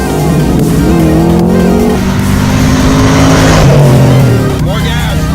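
A Ford Fox Body Mustang engine revs loudly and close up, its pitch swelling and falling in a sustained drone, while voices talk over it.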